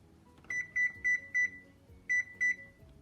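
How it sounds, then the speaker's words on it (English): An oven beeps while it is set to preheat to 375, giving a string of short, clear electronic beeps from close by in two quick groups with a short gap between them. "I'm going to preheat my oven to 375"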